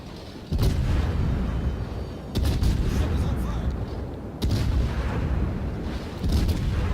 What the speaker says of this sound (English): Beautiful, beautiful side broadside shots into the Conqueror.